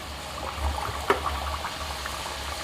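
A strip of raw sanzi dough frying in hot oil, a steady bubbling and soft crackle with a low background hum. One brief sharp pop stands out partway through, and no one talks.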